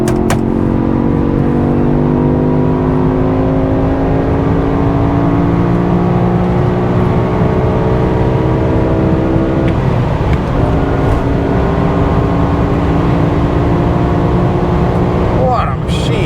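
A high-mileage BMW E60 M5 V10 revs loudly and close, pitch climbing in smooth sweeps as the throttle bodies open at half and full throttle, then dropping and rising again.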